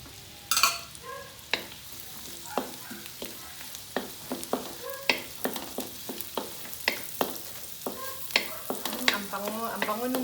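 Onion and garlic fry in butter in a pan for baked macaroni, with a steady sizzle broken by repeated scraping stirs of a utensil at a regular rhythm, close and alone.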